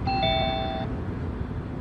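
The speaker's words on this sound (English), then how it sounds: "When the doorbell rings" Electronic doorbell in a home chiming a short two-tone ding-dong, clear and moderately loud, then fading into a quiet room hum.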